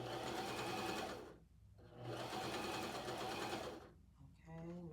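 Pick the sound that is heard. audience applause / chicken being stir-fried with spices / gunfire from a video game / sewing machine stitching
sewing machine stitching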